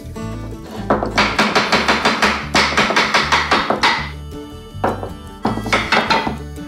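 A wooden mallet hammers the legs of a loose wooden chair during a repair: loud, close, rhythmic thumps in quick runs, with short pauses between bursts.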